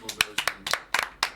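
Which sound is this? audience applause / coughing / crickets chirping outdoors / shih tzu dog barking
audience applause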